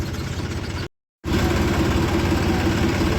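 Tractor engines idling at a sugar mill yard, a steady, loud mid-low diesel drone with a brief cut to silence before the rumble resumes at the same level.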